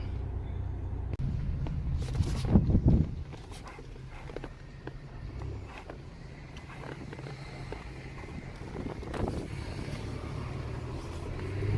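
A car out on a test drive gives a low, steady engine and road rumble, heard from inside and fairly faint. A brief louder swell comes early on, and a few small knocks and rattles follow.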